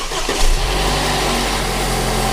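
A BMW F30 engine started briefly and running with a new serpentine belt, heard up close as a steady, loud idle drone for the whole moment.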